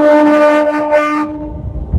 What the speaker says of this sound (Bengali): ট্রেন ঢুকে যাচ্ছে স্টেশনে।